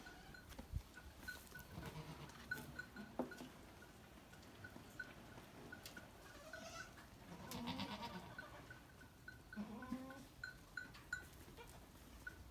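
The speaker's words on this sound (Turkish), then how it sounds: "Burada keçiler ve oğlaklar var." Goats and kids bleat intermittently in a village, several calls overlapping, with a faint metallic clinking in the background.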